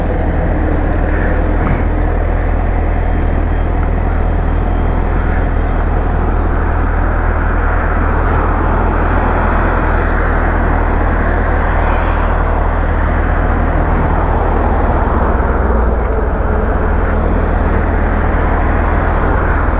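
Steady, loud roar of main highway traffic rushing past at the roadside where motorcycles have stopped, a continuous broadband wash with passing vehicles swelling and fading and no talk.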